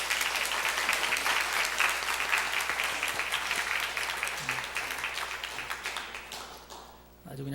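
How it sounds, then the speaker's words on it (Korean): A church congregation applauds after a duet, steady dense clapping that fills the room and slowly thins toward the end, with a few voices faintly underneath. "우리 하나님께 다시 한번 영광의 박수를 올려드립니다."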